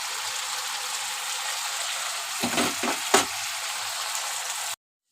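Water poured into spice paste frying in oil, a steady loud sizzle with a few sharp bursts of splashing and bubbling, then sudden silence at the end.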